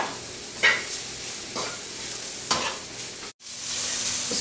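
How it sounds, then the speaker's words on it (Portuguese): Sliced shiitake mushrooms frying with garlic in a pan, a continuous sizzle broken by regular scraping stirs about once a second, then a brief gap before the frying hiss returns. "Então eu já vou colocar aqui o cogumelo shiitake fatiado"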